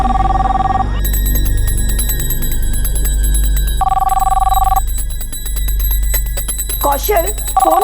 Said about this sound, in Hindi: फोन तो उठा लेता ना। लैंडलाइन है मम्मी